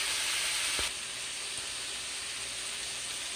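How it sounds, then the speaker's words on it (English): Ground sausage fries in a pan with a steady, faint hiss and crackle of sizzling fat, continuous throughout with no talking. "We got our sausage cooking."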